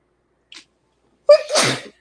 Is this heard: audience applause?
no